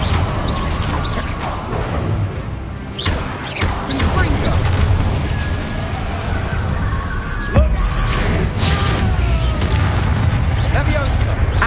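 Spell casts and explosions in a Harry Potter video game: repeated booms and sharp magical blasts burst at irregular intervals over a constant battle din, loud and close, while a player calls out spell names throughout.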